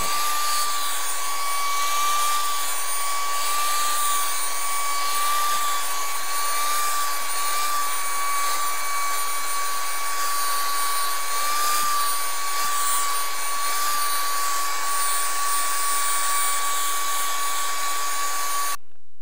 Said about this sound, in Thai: ก็ใช้อันนี้นะครับถอดหัวออกเป็นปลายแหลมนะครับแล้วก็ใช้ดูดฝุ่น